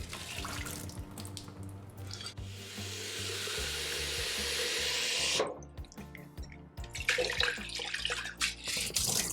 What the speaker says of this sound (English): And then you can just dump the water, which we're just going to do that in a second.